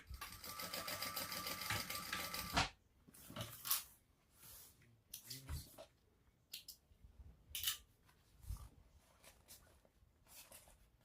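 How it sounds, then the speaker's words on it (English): A sewing machine runs a steady, close burst of stitching along the top edge of a shoulder bag, then stops, followed by soft handling clicks and rustles of fabric with no talk. "we are going to stitch across this top edge at the seam allowance in the pattern"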